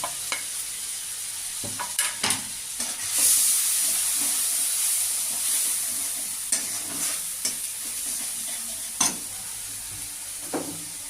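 Ground cumin, coriander and Kashmiri chili fry in a pan under a continuous hiss and sizzle, with scattered scrapes and knocks of a spoon stirring, close by.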